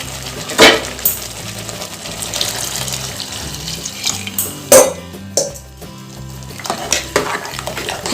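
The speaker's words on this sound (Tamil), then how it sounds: "தண்ணி ஊற்றியாச்சு." Water splashes and pours into a pressure cooker while country chicken gravy is being made, with several sharp clinks of metal cookware in between.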